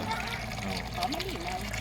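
Water gushes steadily from a hand-pumped well into the open air, a continuous close splashing flow that fills the whole moment without breaks.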